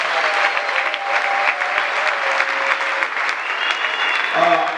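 A church congregation applauds and cheers to acclaim the Lord, a steady wash of clapping from a large crowd with voices rising through it and some faint sung or sustained tones over the top.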